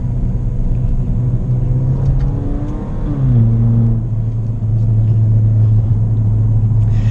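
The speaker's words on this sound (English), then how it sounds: "it gives some really cool noises when you shift the gears, as you can hear right there" A Ford Fiesta Titanium with a dual-clutch transmission holds a loud, steady engine drone from inside the cabin. Its pitch steps audibly during a gear change around three seconds, then settles into an even hum.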